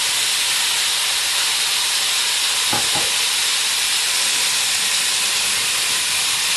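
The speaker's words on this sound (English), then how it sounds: "What I'm going to do is I'm going to deglaze. This is white wine, the Chardonnay." Chardonnay white wine poured into a hot pan with ribeye steaks, a loud continuous steamy hiss and sizzle, with a couple of brief clinks or scrapes midway.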